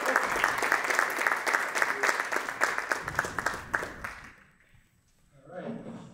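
A lecture audience claps steadily to welcome a speaker, sustained applause that fades out, followed by a brief murmur of voices near the end.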